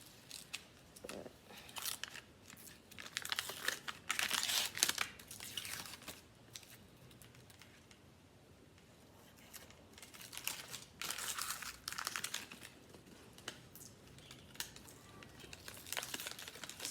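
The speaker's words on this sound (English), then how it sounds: "remove all the paper off of all of the items" Paper is peeled and crumpled off the pieces of a serving tray mold, giving close crinkling and tearing bursts in irregular clusters separated by quieter gaps, with no voices.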